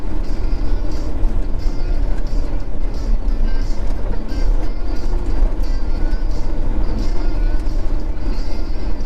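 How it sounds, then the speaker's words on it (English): A 2019 automatic truck with a Cummins X15 engine rolls along the road, its loud continuous engine drone and road rumble filling the cab without pause. "the truck that I'm driving right now is a 2019. This is an automatic. This has got a Cummins X15"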